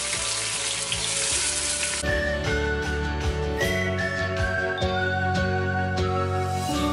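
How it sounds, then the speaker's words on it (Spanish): Leek hits hot oil and butter in a pan and erupts into loud, crackling sizzling, with a sudden jump in intensity after a moment and steady bubbling spatter continuing close up. "vamos a poner ya nuestro puerro a freír"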